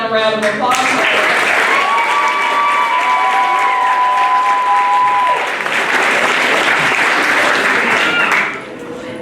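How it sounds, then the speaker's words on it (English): At a middle school academic awards ceremony, a large audience gives loud, sustained applause with some cheering, a dense wash of clapping that stops abruptly near the end while music or tones sound beneath. "a round of applause."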